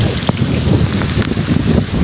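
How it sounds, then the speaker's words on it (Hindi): Heavy rain falling outdoors, a constant dense wash of noise with occasional sharper drips and wind buffeting, no talking. "और अभी भी हो रहा है, इतना बारिश हुए जा रहा भाई"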